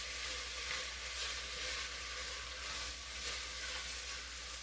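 Onion and butter sizzle steadily in a pot while being stirred, a continuous close frying hiss with no talking.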